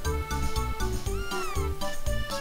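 A cat meowing in the video game Chrono Trigger, a run of several short, clear, tonal meows in quick succession over a steady game background.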